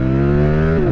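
A 2021 Ducati StreetFighter V4S motorcycle's V4 engine revs loud and close, holding a steady high drone that climbs, then drops sharply near the end as the rider shifts.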